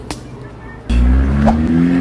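A small local village bus passes close by on a narrow Kyoto street, its engine suddenly loud and steady after a quiet moment.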